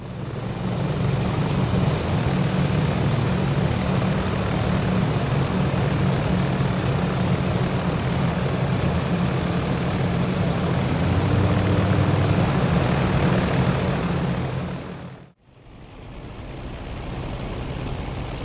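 A Spitfire's piston engine drones steadily in a flight video game, a loud continuous roar holding constant for about fifteen seconds before cutting out abruptly and returning slightly quieter.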